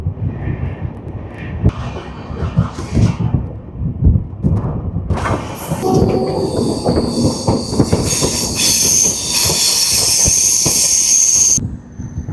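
Mangalore–Rameswaram Express rolling into Rameswaram station: a loud, continuous train rumble with rattling wheels, swelling into a broad hiss and screech of wheels and brakes through the second half before easing off at the end.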